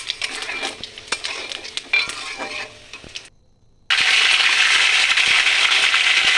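Spices fry in oil in a wok: close stirring clatter of a utensil against the metal for about three seconds, a brief near-silent gap, then a loud, steady sizzle takes over.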